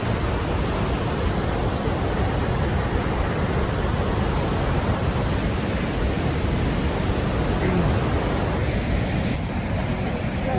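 Victoria Falls in Zimbabwe roars as a dense, constant wash of broadband noise, loud and close, with steady spray and wind-like rush and no voices.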